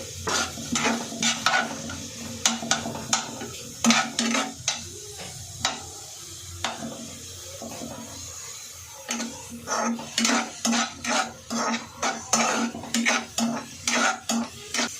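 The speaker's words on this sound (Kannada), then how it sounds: "ಇವಾಗ ಆಯಿಲ್ ಕಾಯ್ದಿದೆ, ಅದಕ್ಕೆ ಆನಿಯನ್ ಹಾಕ್ಕೊಳ್ತಾ ಇದ್ದೀನಿ" Finely chopped onions fry in hot oil for momo filling, a steady sizzle broken by repeated rhythmic scraping and clinking of a spatula against the pan, close and fairly loud.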